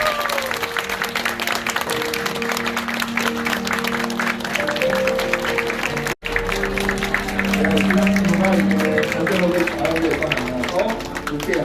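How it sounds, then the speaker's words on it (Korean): Wedding guests in a hall applaud for the bride, a continuous wash of crowd clapping under background music and talk, briefly cutting out midway before resuming. "여러분 의 신부의 아름다움에 대해 여러분의 박수 소리가 조금 적은 것 같습니다."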